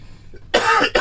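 A single short cough, close and clear, in two quick bursts after a moment of near silence.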